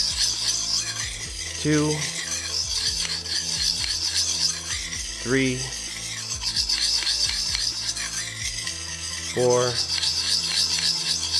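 Repeated rough rasping strokes of a survival knife blade drawn across a sharpening surface, steady and close, while a voice counts quietly between them.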